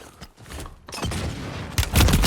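Warzone video game gunfire, a burst of loud booming shots building toward the end, dense and close with heavy low thumps and no talk over it.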